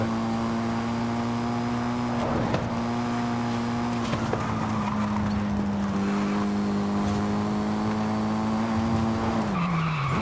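A 720HP Mitsubishi EVO III rally car in Forza Horizon 5 revs hard with a steady high engine drone, rising and dipping through gear changes, with tire squeals and skids breaking in, loud and close throughout.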